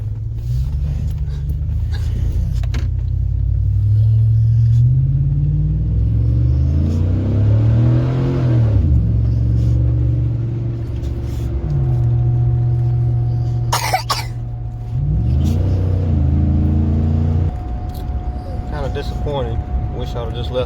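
A pickup truck fitted with a new, quiet exhaust idles and revs with a low, steady engine rumble, rising in pitch during a few throttle blips, while a person talks nearby and coughs briefly.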